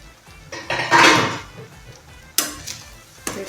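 A cooking pot lid is lifted off simmering tomato curry with a metallic clank and scrape, followed by a soft sizzle and a couple of sharper clinks of the lid and utensil against the pot, close by and without talk.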